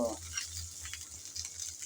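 Chilies and garlic shallow-frying in oil over a low flame, a soft continuous sizzle with light stirring scrapes, fairly close and quiet, with no talking.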